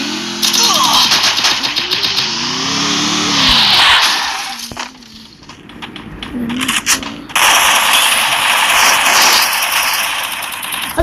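A jeep drives in the Free Fire video game, its engine revving and shifting loudly with skidding and rising and falling pitch, and a brief lull in the middle before the roar returns.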